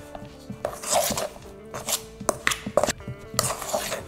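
A knife stirs liquid into the dry, wholegrain dough for vegan hot cross buns, making close, uneven scraping and knocking against the bowl in short repeated strokes.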